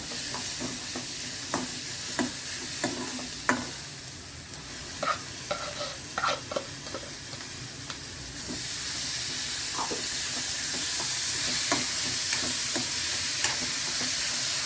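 Finely chopped tomato fries in a pan with a continuous sizzling hiss, while a spoon stirs and scrapes against the pan in irregular clinks. The sizzle swells louder in the second half, and no one speaks.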